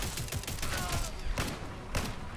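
Rapid, dense gunfire from the Riveter weapon in the Fallout 4 video game, a loud continuous rattle of shots with a few heavier blasts standing out near the middle and end.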